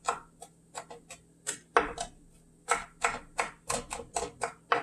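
A knife chops fresh chili into small pieces on a board for samosa filling, with a quick run of sharp, close taps at an uneven rhythm and no talking.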